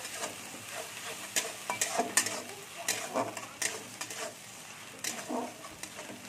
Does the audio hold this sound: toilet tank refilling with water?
no